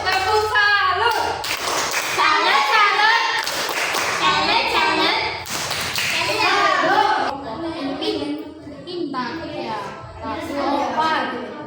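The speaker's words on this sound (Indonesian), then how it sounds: "Oke, tepuk salut" Schoolchildren in a classroom perform a rhythmic clapping routine in short bursts, their voices chanting and talking loudly between and over the claps.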